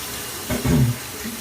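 Water runs from a tap for a brief burst to rinse a shaving brush, a short close splashing gush under half a second long, with quiet before and after.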